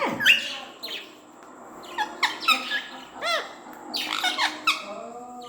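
A peacock gives a series of sharp, loud squawking calls, several bursts with short gaps, close by and alone without talk.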